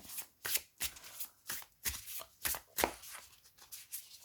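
An oracle card deck being riffled and shuffled by hand, a series of quick crisp flutters and soft taps repeating roughly every third of a second, close and quiet with no voices.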